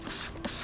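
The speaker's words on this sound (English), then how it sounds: "we'll spray it onto a microfiber towel" Two quick, soft hissing bursts of cleaner sprayed from a bottle onto a microfiber towel, close and quiet, with a short gap between them.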